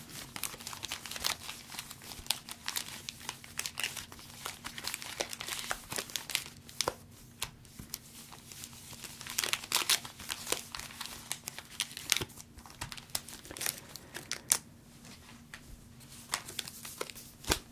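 Pokémon card booster packs from a Destinées de Paldea elite trainer box are torn open up close, their foil wrappers crinkling and crackling in dense, irregular bursts with no talking.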